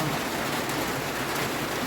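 Rain falls steadily on a Thai jujube orchard, a dense, even hiss of drops with no breaks or voices, fairly loud and close throughout.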